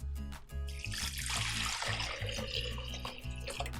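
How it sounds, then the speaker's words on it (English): Water pours into a Thermomix TM6 mixing bowl for a pre-clean cycle, a close, splashing stream running continuously for a few seconds. "all we need to do is pop in some water"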